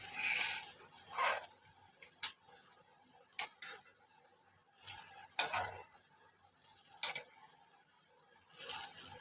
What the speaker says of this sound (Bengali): মাছের তেলটা তোলা হচ্ছে